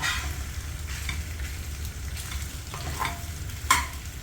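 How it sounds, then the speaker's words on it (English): Pasta being stir-fried with sauce as small cut sausage pieces go into the pan, a steady close sizzle with stirring scrapes and a sharper clatter near the end, no talking. "you stir fried it almost completely with the sauce, now she is putting in the sausages"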